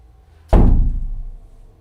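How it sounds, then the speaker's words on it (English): A door slams shut with a single loud, sharp bang that decays over about a second, alone in an otherwise quiet room. "a clear, loud bang scares the both of them, and they capture the door, closing on its own"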